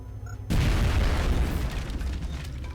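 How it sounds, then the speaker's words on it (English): A grenade explodes in the video game XCOM Enemy Within: one sudden, loud, deep boom that rumbles and slowly fades. "Grenade out."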